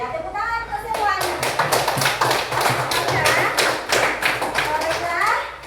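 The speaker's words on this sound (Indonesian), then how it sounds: "Tepuk tangan untuk semuanya" A classroom of children clapping together for their classmates, a dense run of loud, steady hand claps with children's voices mixed in.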